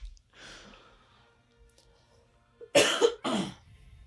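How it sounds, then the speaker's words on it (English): A single deep, chesty cough bursts out in two loud heavy blasts near the end, after a stretch of faint breathy sound and near silence. "that cough was a little deep"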